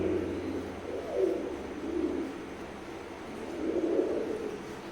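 Imported-line Teddy pigeons coo in soft, low rolling phrases, a couple of swelling calls close by with a faint steady hum beneath.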